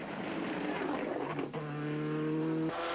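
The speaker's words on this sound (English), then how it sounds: "A former championship-winning car in the hands of Sean Gallagher also makes interesting work of this section" A Ford Escort rally car races through a stage of the 2004 Monaghan Stages Rally, its engine loud and close, revving up and dropping through gear changes into a steady high drone.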